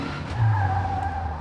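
A Junior WRC rally car skids in the racing game WRC 5 on a Spanish rally stage, a brief tire scrub and squeal over a steady engine drone, fairly loud and alone without talking.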